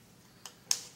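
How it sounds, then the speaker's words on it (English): Crisp taps of an egg's tip against a hard edge to crack the shell, two or three sharp little clicks spaced apart in a quiet kitchen. "tap on tip of it. You see how it cracks right here?"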